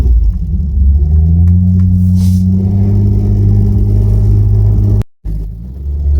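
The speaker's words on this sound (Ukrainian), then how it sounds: "Моторчик звучить непогано і цікаво." A 1980s Opel Monza 3.0 automatic coupe engine idles with a steady low rumble, loud and close, briefly cutting out near the end before resuming.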